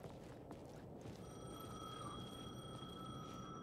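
A telephone rings inside a Japanese psychological horror game, Alan Wake 2, its steady electronic tones sustained over a dense, low ambient drone without pause.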